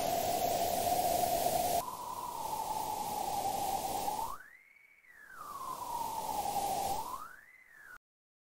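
A synthesized, breathy wind hiss from a physically modeled wind instrument, with a whistling tone that rises and falls in two slow gusts, steady and fairly loud, then cuts to silence.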